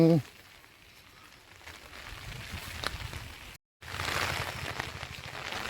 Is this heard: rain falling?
yes